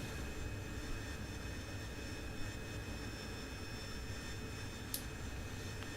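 An AV-8B Harrier jet climbing away after takeoff in the DCS flight simulator, with a steady broadband engine roar and whine, constant and moderately loud with no talk.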